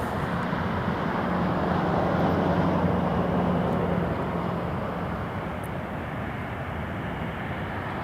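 Air Transat Airbus A330-200 airliner at Toronto Pearson Airport, a loud, steady broadband jet roar heard from some distance that holds throughout and eases slightly toward the end.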